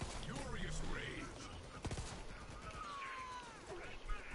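Gunfire in Borderlands 3, scattered shots and a few sharp bursts at moderate distance, mixed with game effects and a busy background, with a quick volley standing out near the middle.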